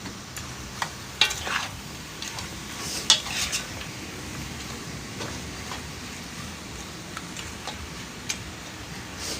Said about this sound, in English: So I'm gonna let that saute a little bit